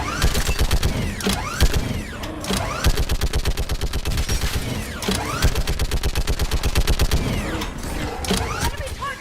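Sustained rapid gunfire in Mass Effect Legendary Edition fills a dense firefight, with fast rhythmic automatic bursts, mechanical clatter and whooshing effects layered together and loud throughout.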